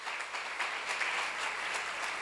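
A church congregation at a seminar claps together in a steady, brisk patter of many hands, moderately distant and even throughout, with no talking over it.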